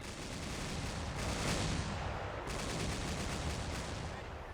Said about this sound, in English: my AAA immediately firing at them.